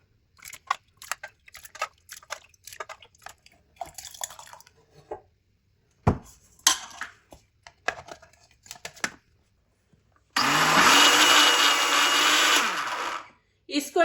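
A juicer blender jug blending a summer drink roars loudly for a few seconds in one steady burst, preceded by clattering and handling noises with some talk in between.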